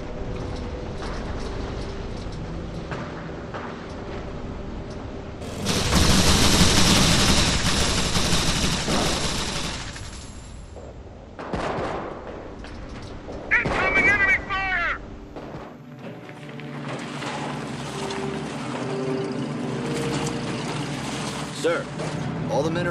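Air strafe gunfire in the Company of Heroes video game, set in Montebourg: a loud, broad burst of strafing fire and blasts rises around the six-second mark and lasts several seconds, amid ongoing battle noise, with voices speaking over parts of it.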